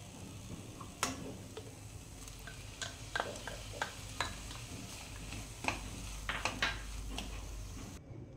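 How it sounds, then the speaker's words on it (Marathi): Ground paste is stirred into methi leaves and peas frying in a pan, with a soft sizzle under a scattered series of sharp spoon scrapes and taps against the pan. "आता आपण ह्याच्यामध्ये आधी तयार केलेली पेस्ट घालूयात।"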